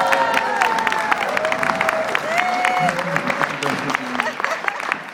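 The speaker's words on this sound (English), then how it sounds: "And give her a round of applause." A crowd claps for a young girl at a church mission gathering in Toronto, Ontario, the sharp, dense claps carrying on with some cheering and vocal sounds mixed in.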